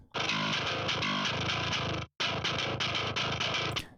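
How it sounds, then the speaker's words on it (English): A heavily distorted electric guitar with high tone and maxed volume plays loud, gritty chords in a mix, cutting out briefly for a split second before continuing. "pull up the tone quite high to get that really nasty bite, and pull up some drive for some distortion"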